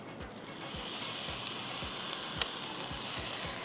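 Glowing charcoal laid into food to smoke it, dhungar style, gives a steady hiss and sizzle with soft regular ticks, close and even, no talking.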